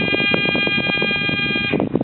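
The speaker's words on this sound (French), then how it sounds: "Si j'enlève le signal qui est ici, on se rend compte que j'ai une alarme." A steady electronic alarm tone from an electromagnetic detector sounds continuously when the signal is removed, with a dense rumbling of activity underneath, cutting out near the end.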